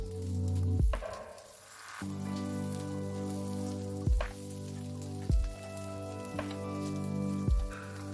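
Onion and capsicum fry in a little oil in a pan, giving a steady close sizzle broken every second or so by the clack of a spatula stirring, with no voices.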